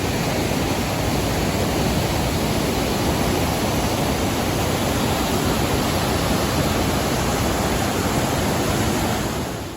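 Rushing California flood water roaring past a house deck, a loud, dense, continuous broadband wash that holds steady throughout and cuts off abruptly at the end.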